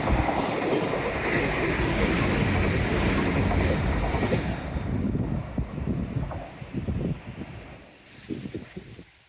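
A train rolls past on an outdoor countryside walk in blustery wind, a loud continuous rumble that fades away with intermittent clunks toward the end.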